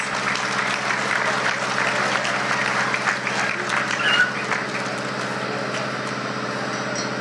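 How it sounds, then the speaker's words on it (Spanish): Steady crowd applause for a boy at a taekwondo event, a continuous wash of clapping over a constant low engine-like hum throughout. "Pedirles que le regalemos fuertes aplausos para el niño Alex Gregorio García Matías."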